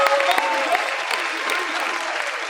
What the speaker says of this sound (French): Applaudissements du public, tous ensemble.